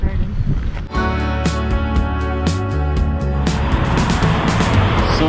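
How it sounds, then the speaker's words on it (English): Cars roll past at a busy trailhead car park near Mount Rainier, a loud close engine and tyre rumble with buffeting wind noise across the microphone, one vehicle swelling by then another following. "many cars coming behind you."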